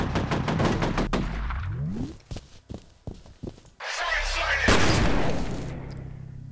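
Shotgun blasts and gunfire in the video game F.E.A.R. come as a rapid string of loud shots, then several scattered reports and a heavy boom, with brief talk.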